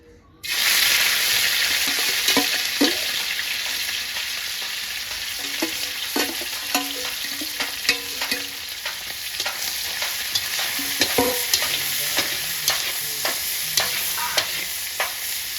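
Fish frying in hot mustard oil in a wok, a steady loud sizzle with scattered crackles and sharp pops from the spatula stirring, no voices.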